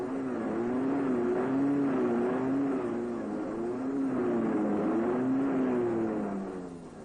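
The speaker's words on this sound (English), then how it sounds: "Sudden bursts of power cause the wheels to spin, and the vehicle digs deeper into trouble." Series Land Rover engine revving hard as its wheels spin in soft sand, a loud, close, continuous drone that swells and wavers in pitch through sudden bursts of power.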